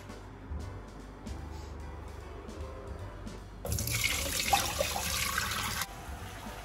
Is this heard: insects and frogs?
no